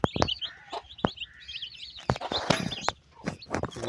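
A large crossbreed hen clucks on a farm, giving short, close, repeated clucks with sharp irregular bursts and brief pauses, plus faint chirping from other birds.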